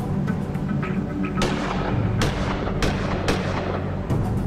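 A weapon fires at a target in a test facility in the adventure game Gemini Rue, several sharp booming shots spaced irregularly over a low rumbling background.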